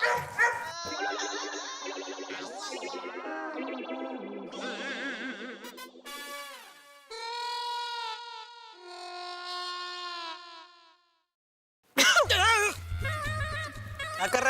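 Cartoonish dog barks, yips and whimpers in a comedy sitcom scene, a run of varied pitched animal cries, loud and close, with voices and effects around them, then a short silence and a burst of noisy sound.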